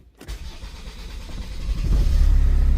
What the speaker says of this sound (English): So let's start the vehicle.